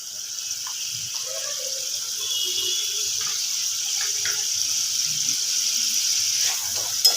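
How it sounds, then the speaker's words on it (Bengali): Chopped onion frying in plenty of oil in a wok, a steady close sizzling hiss that holds through the whole stretch with light clinks and stirring taps underneath. "কড়ার মধ্যে কিন্তু অনেকটা তেল আছে ওর মধ্যে আমি পেঁয়াজ কুচি দিয়ে দেবো"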